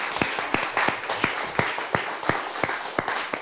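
Applause for a storyteller at a school storytelling event, a dense wash of clapping with regularly spaced sharper individual claps standing out, steady and fairly close throughout.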